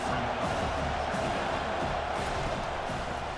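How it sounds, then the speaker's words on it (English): Stadium crowd noise in an EA Sports college football game, a loud steady roar of massed fans throughout the short stretch. "This crowd trying to make life miserable for this offense."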